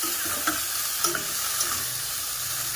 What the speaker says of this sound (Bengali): এখানে দেখো বাঁধাকপির ঘন্ট এখন বানাচ্ছি